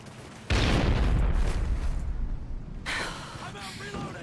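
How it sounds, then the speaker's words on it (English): A stun grenade goes off in a first-person shooter video game: a sudden loud, close blast followed by several seconds of roaring noise that slowly fades, with players talking over it. "Toss him a stun grenade!"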